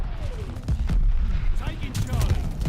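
Call of Duty: Vanguard battle royale gunfire, several sharp shots and bursts over a dense rumbling battlefield bed, loud and close in a crowded match mix.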